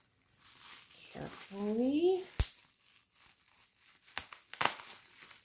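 Reborn doll box packaging being cut open, with crinkling and tearing of cardboard and plastic, a couple of sharp cutting snaps, close and moderately loud, while someone speaks briefly over it.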